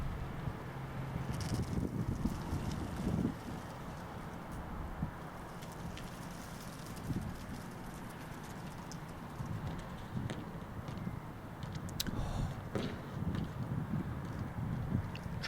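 Wind blowing outdoors in a park on a December day, a steady low rushing roar buffeting the microphone for the whole stretch, with faint scattered background sounds.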